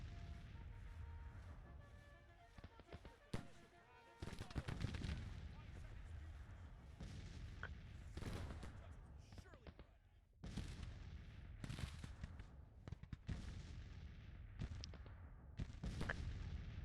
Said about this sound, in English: These 3-inch ordnance rifles are still bombarding there.